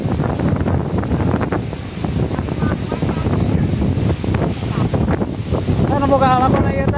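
Strong gusting wind sweeps over a fishing raft on Cirata reservoir, roaring steadily into the microphone with a wash of water beneath, while people talk throughout and a brief whistle-like tone rises near the end.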